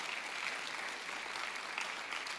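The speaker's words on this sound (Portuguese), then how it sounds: "aplauda ao Senhor" A church congregation claps for the Lord during a Portuguese-language sermon on spiritual deliverance, dense, even applause filling the space at a steady level without speech.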